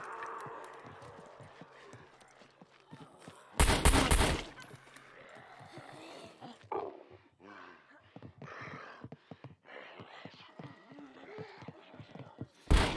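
Gunfire in the video game SCUM: one loud, sharp shot stands out early, followed by scattered clicks and movement sounds, with people talking intermittently around it.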